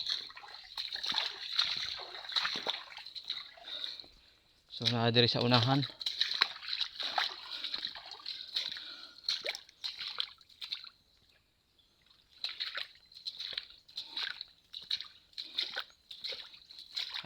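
Water from a well splashes and trickles steadily from a hose nearby while a person talks over it, with a brief pause partway through.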